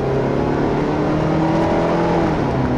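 A 2011 Hyundai Sonata Limited engine holds a steady, sustained rev as it waits through a slow upshift, a close, constant whirring drone without speech.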